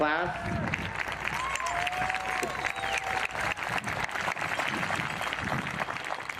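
An audience at a Santa Fe High School 2021 graduation gives the principal sustained, loud applause, a dense wash of clapping mixed with cheers and crowd voices, while a speaker's voice carries over the start.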